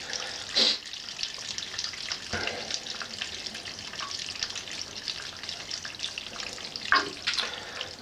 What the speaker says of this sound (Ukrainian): покажу вам, що вода все одно стікає, ну, вона почала стікати, але не так, як треба